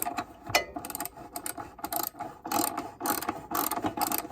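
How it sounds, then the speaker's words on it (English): A ratchet wrench clicks in quick, uneven bursts while tightening the blade bolt on a zero turn mower, each ratcheting stroke sharp and close, with short pauses between cranks. "I just got to turn my wrench around."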